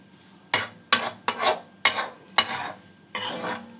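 Gram flour (besan) roasts in a pan while a spoon scrapes and stirs it in six distinct strokes, each a dry rasping sweep close by, with quiet pauses between and no voices.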